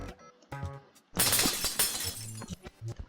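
Glass shatters in a video game with a sudden loud crash that sprays into a long tinkling spill of shards, followed by scattered clinks and short game tones.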